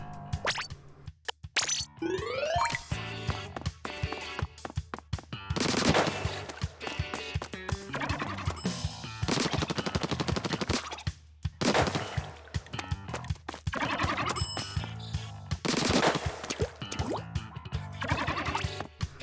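Ink weapons fire in the Splatoon 2 video game, rapid bursts of splattering shots coming in clusters with short gaps, loud and close over game sound effects.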